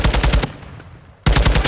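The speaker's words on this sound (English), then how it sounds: "somebody's shooting" Rapid bursts of automatic gunfire in a battle royale video game firefight, loud and close, pausing for about a second before another sustained burst resumes.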